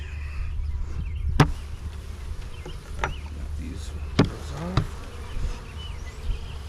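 Honeybees buzz in a low steady drone as a beekeeper in Michigan opens the hive lid, with sharp close clicks and knocks of hive parts scattered over the hum.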